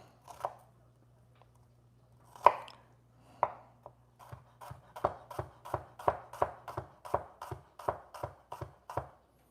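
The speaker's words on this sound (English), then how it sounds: "we're just gonna cut these shallots up finely" Knife chopping shallots finely on a cutting board for lamb gravy: a few scattered cuts, then a steady run of about a dozen sharp, evenly spaced chops, close and fairly loud, with a low hum underneath.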